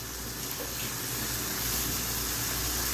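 Chicken spaghetti cooks in a pan over a low flame, giving off a soft, steady sizzle and hiss with no break and no talking.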